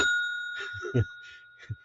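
A bright notification bell rings with a sustained metallic tone under a few short spoken words, close and moderately loud.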